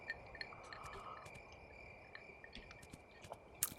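Night crickets in the video game Kingdom, a faint steady chirping drone with soft scattered clicks and no music.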